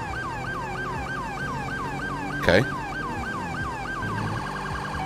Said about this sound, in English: This is going to showcase the siren.